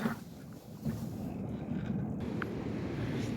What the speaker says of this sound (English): Yeah, so there's the wind